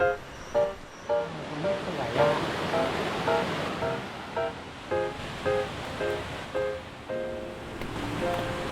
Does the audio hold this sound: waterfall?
yes